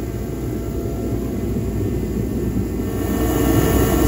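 A torpedo heater roars steadily as it warms a Dana 60 axle in a shop, giving a loud, constant forced-air rumble with a fixed high whine and no break.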